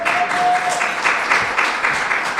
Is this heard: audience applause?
yes